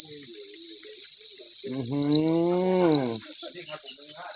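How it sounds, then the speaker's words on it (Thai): Dense, shrill chirping of many crickets on a cricket farm rings constantly and loudly, a thick insect chorus, while a drawn-out low animal-like call rises and falls briefly in the middle. "ดูจิ้งหรีดเยอะแยะเสียงร้องระงมเลยนะครับ"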